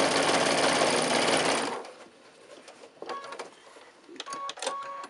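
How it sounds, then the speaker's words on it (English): A sewing machine stitches bag fabric for a quilted arm chair sewing caddy, running in a loud, fast, even whir for under two seconds before stopping, followed by light clicks and small mechanical taps. "What you want to do is you want to start stitching down one side to the fold."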